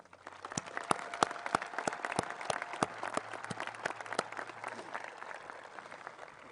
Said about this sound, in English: Please join me in a round of applause for them now.